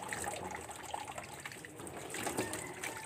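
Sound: running tap water

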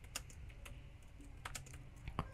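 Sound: typing on a computer keyboard

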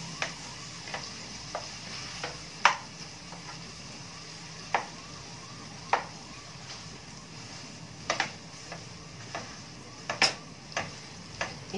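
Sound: khoya being roasted in a pan on low heat

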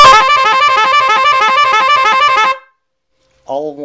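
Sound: Telolet klaxon horn kit, single horn button

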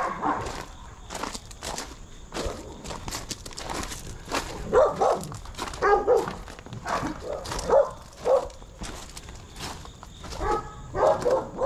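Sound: puppies barking at humane society

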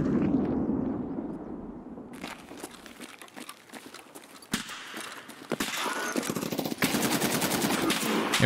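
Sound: M1A rifle gunfire in a video game

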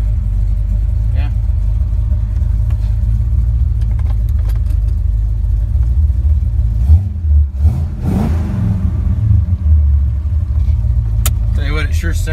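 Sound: 1979 Chevrolet Corvette engine revving

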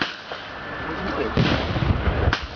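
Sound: cannon firing in battle reenactment

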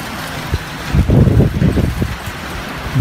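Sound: hail falling

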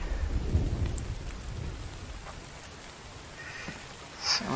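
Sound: rain and thunder in a video game

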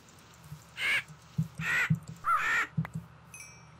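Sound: raven cawing in Minecraft FTB modpack, video game

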